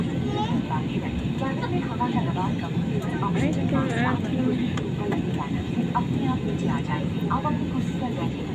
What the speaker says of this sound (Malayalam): ഗായ്സ് ഫ്ലൈറ്റ് പുറമോട്ട് എടുക്കുന്നു.